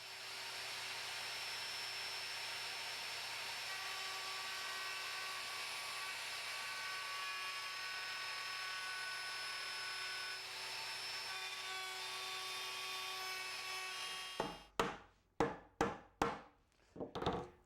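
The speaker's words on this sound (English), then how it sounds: "For the router, we've already changed our dovetail bit to a straight bit, and that's what we're going to use to cut the pins." A router fitted with a straight bit cuts dovetail pins in walnut for a blanket chest, a steady loud whine running for about fourteen seconds before ending in a series of sharp knocking hits.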